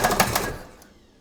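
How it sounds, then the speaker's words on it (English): Starter motor of a VW Mk1 diesel, an M-TDI with a Bosch VE pump, grinding in a failed start: a loud burst of rapid rhythmic cranking that fades out within about a second, with no engine catching. "Sounds good for it, doesn't it, when you grind the starter around a bunch?"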